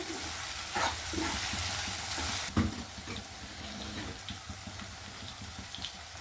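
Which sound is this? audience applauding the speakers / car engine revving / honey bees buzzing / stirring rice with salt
stirring rice with salt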